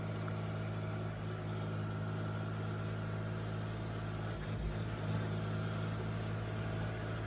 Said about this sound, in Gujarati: નીકળી ગયા હે આપણે જોન ડીયર ટ્રેક્ટર લઈ